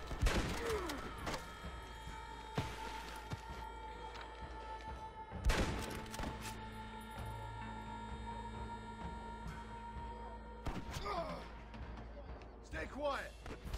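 Gunfire in Red Dead Redemption on Xbox 360: scattered sharp shots with a heavier burst near the middle and a quick cluster toward the end, over a steady game background while a person talks.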